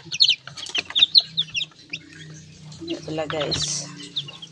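Small live chickens clucking and chirping close by in repeated short bursts, with someone speaking over them in the middle of the clip.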